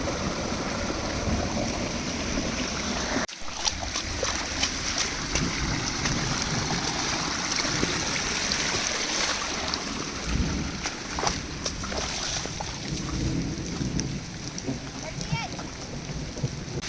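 Continuous rushing water floods across a field in heavy rain, filling the scene with a broad, steady wash, and a sharp knock lands briefly near the start.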